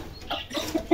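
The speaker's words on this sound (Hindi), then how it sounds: "मुर्गे अच्छे होते हैं लेकिन इनका शोर बहुत होता है यार।" A rooster gives a few short, close clucks in quick succession, getting slightly louder toward the end.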